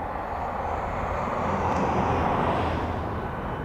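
A Ryanair airliner departs for Palma from East Midlands Airport, its engines giving a broad, steady roar that swells slightly toward the middle and keeps a constant rumble throughout.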